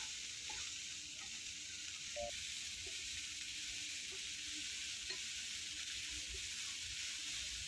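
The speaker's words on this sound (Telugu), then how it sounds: "ఇక్కడ ఆనియన్లో ఉండే తేమ పోయేంత వరకు బాగా డ్రైగా ఫ్రై చేసుకోవాలి." Small bitter gourds and onion dry-frying in a pan give a soft, steady sizzle with occasional faint stirring scrapes, quiet and even throughout.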